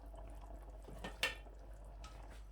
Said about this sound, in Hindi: पानी जो है उसको उबलते रहने देना है